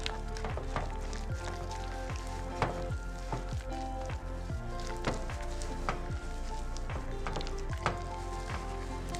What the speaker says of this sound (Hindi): यहाँ पे हमारा तेल गरम हो रहा है।